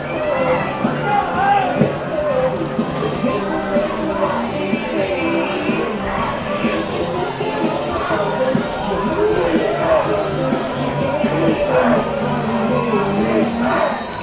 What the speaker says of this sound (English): The Alberta crowd getting loud, supporting their girls in white and blue